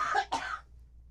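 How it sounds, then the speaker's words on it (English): A woman gives two quick coughs, close and fairly quiet, followed by near silence. "I'm gonna cough."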